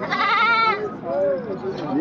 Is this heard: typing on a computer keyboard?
no